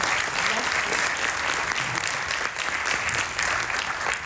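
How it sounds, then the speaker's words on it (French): An audience at a startup pitch day in Bordeaux breaks into sustained, loud applause after a pitch, a dense wash of many hands clapping steadily for about four seconds with no break. "On peut l'applaudir."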